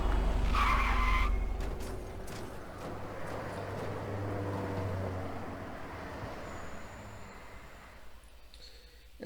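Car tires screeching in a mystery hidden-object video game, a long skid with a sharp burst at the start settling into a fading drawn-out scrape over a low rumble, alone with no talk.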